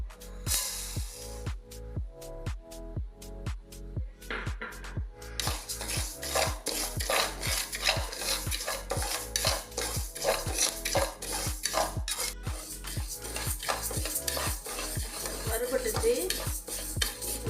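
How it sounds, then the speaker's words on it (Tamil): Moong dal is roasted in a kadai for Ashoka halwa, with a spoon scraping and clinking against the pan in a steady rhythmic stirring pattern, close and clear over a soft sizzle. "இந்த பாசுபருப்பை நம்ம கொஞ்சம் பொன்னிறமாக வறுத்துக்கலாம்"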